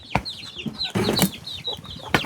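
Chickens cluck and chirp close by around a rural farmhouse in the countryside. Short repeated calls come in an irregular run over rustling and scuffling noises.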